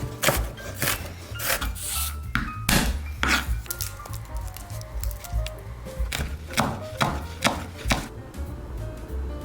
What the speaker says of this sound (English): we're gonna chop up our vegetables.